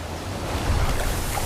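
Rushing river rapids, a steady broad wash of turbulent water with low rumble, continuous and fairly close, swelling slightly midway with no voices.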